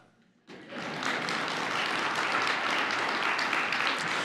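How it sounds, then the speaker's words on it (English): Applause breaks out suddenly after a quiet moment and quickly builds into a full, steady round of clapping from a large audience in a hall, holding strong to the end. "That's okay to clap at."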